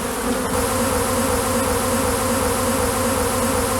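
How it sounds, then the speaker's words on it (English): Dense, steady buzzing of many bees around a hive, close and continuous, with no voices. "That's where the bees are coming from"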